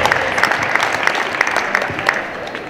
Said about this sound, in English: let's give yourselves a round of applause for just participating with us